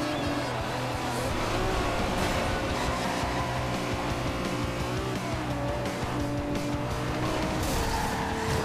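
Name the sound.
Lamborghini Countach race car driving in Forza Horizon 2 video game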